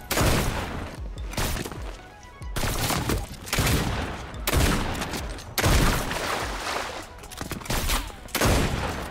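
Rapid gunfire bursts from a Fortnite match where a sniper rifle is in use, with loud cracking shots recurring in quick clusters across the clip.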